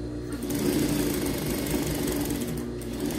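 A sewing machine stitches a baby bodysuit, giving a steady, close, whirring mechanical hum with rapid needle rattle that runs without a break for about three seconds.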